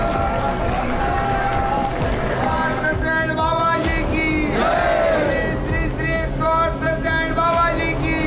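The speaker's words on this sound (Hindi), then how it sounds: "भक्तों की भीड़ जमा हो गई।" A dense crowd of devotees gathers at a temple's main gate at night, a loud continuous roar of voices, shouts and movement filling the whole stretch without pause.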